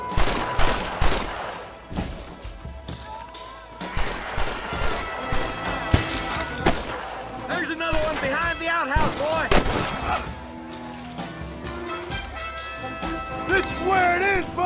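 Gunfire in a Red Dead Redemption video game shootout, repeated loud rifle and pistol shots with ricochets and impacts, plus a background music score, while game characters talk throughout.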